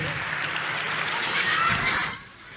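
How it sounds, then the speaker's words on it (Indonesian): A church congregation applauds for God during a sermon, a dense steady wash of clapping that swells slightly and then drops off near the end. "Tepuk tangan dulu yang paling meriah buat Tuhan"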